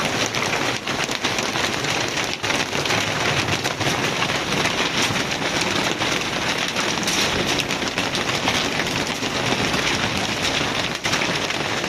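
Very large hailstones pelt down in a dense, continuous roar, a loud crackling clatter on hard surfaces with no pauses.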